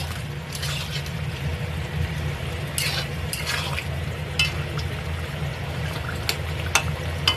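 A spoon stirs a simmering sonkor fish curry with garam masala in a pan, soft scraping strokes and occasional clinks over a low bubbling sizzle, close and fairly quiet, no voices.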